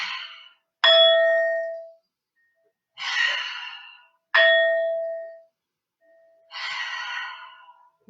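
Meditation chime struck three times during a children's yoga session, each ring a bright, clear metallic tone that lingers and fades over about a second, with a softer breathy shimmer following each strike.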